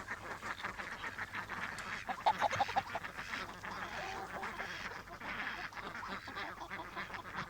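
Several ducks quack in a constant, overlapping chorus close by, with a brief brighter squeak standing out partway through.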